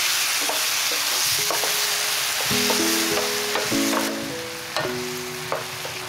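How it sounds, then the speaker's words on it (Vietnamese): Minced tomatoes are stir-fried in a pan, sizzling steadily while a utensil scrapes and stirs at intervals, close and clear with no voices. "Xong rồi mình cho cà chua băm vào, đảo đều lên."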